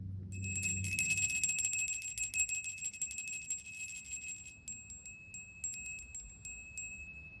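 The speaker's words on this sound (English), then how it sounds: "They said ring the bell." A small bell rings with a bright, sustained metallic tone, struck several times in the first seconds and then left to ring on and fade over a low rumbling background.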